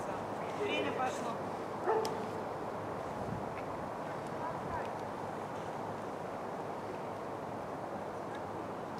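Dogs bark and yip at a dog obedience competition, a few short barks early on heard at a distance over a noisy indoor room with voices murmuring in the background.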